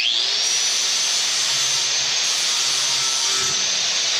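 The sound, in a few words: 4-inch angle grinder with flap disc grinding off anchor heads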